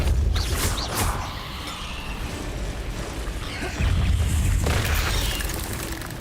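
A Repulsor spell is cast in Hogwarts Legacy amid a spider fight, giving dull booming bursts and mechanical rumbles among dense game effects, moderately loud with no voice.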